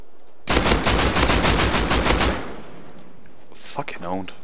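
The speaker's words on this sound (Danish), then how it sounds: "Jeg hørte de skud der på dem." Gunfire in a battle royale video game: a loud burst of rapid automatic shots lasts about two seconds, then stops, followed by a brief voice.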